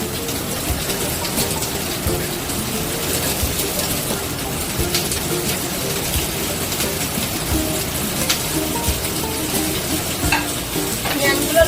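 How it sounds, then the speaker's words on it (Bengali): Onions frying in hot oil in a karahi, a close, continuous busy sizzle and crackle with stirring, even in loudness throughout. "তেলটা গরম হয়ে গেছে, এবার আমি পেঁয়াজগুলো তেলের মধ্যে দিয়ে দিচ্ছি"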